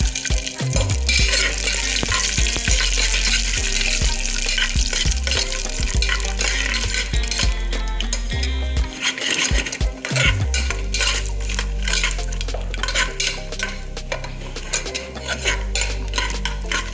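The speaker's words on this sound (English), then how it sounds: "So we will fry the peanuts." Peanuts frying in a pan with cumin for khichdi, the pan kept moving: steady continuous sizzle with repeated scraping and clinks of a utensil against the pan throughout, loud and close, no talk.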